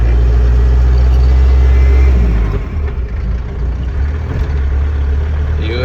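A 1987 Land Rover Defender 110 engine runs, a loud low rumble that drops to a steadier idle partway through, heard close with no talk.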